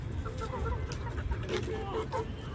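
A flock of backyard chickens, some large and some small but all the same age, clucks steadily up close, with brief higher calls rising over a busy low murmur and some faint human voice in the background.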